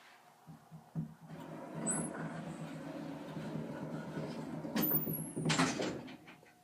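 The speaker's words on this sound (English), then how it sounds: "I'm gonna wait for the door to close too." A Dover hydraulic elevator in a Sacramento office building closes its door: a low, steady mechanical rumble that builds and holds, with two sharper bursts near the end as the door settles shut.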